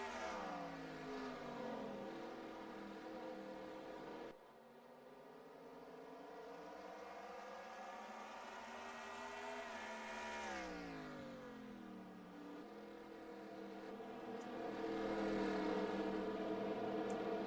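Stock cars racing at Martinsville Speedway in the NASCAR Racing 2003 game, with engines droning and revving in long rising and falling sweeps as a pack passes, loud and continuous, with a sharp cut partway through.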